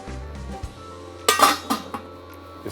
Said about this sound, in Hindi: इसको लगाते हैं ढक्कन।